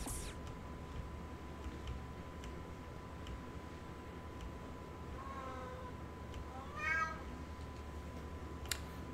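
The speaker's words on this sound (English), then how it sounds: "And I think my cat is hoping for me to fail the wave too." A pet cat meows a couple of times during quiet room tone, short faint calls set against a steady background hum, with no talking.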